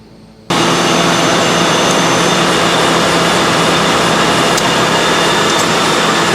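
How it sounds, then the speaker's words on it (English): A 1995 Ford Crown Victoria engine starts up and runs steadily with the A/C compressor engaged, a loud, constant broadband roar with a faint whine that holds unchanged for several seconds. "we'll go ahead and start the engine, and we'll engage the air conditioning system"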